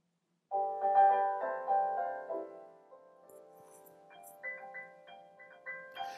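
A song playing through a Light Harmonic Da Vinci DAC from a Mac music server, a quiet guitar melody with plucked notes heard faintly from across a listening room.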